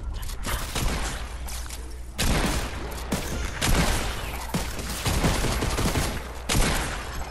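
Rapid bursts of loud gunfire from a Fortnite and Resident Evil game crackle in dense volleys for several seconds, with short gaps between the strings of shots.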